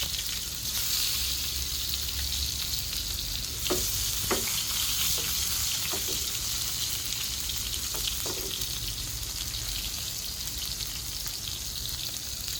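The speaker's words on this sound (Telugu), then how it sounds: "అది టమోటాలు బాగా వేయించుకుందాం" Tomatoes fry in a pan with a continuous close sizzle, steady and even, with a handful of faint clicks of a spoon partway through and no voices.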